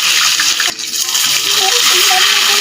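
Water gushes and splashes steadily close by as it is poured for washing, a loud broad rush throughout with people talking faintly underneath.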